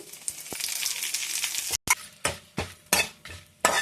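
Curry leaves and chillies fry in oil in a pan for a village-style curry leaf spice powder, giving a close, steady sizzle broken by rhythmic scraping stirs and short metallic clinks.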